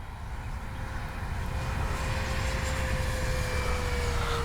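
A Durafly 1100mm T-28 RC airplane flying at full speed with its landing gear up, a steady electric motor whine holding level over four seconds at moderate distance, with no talk.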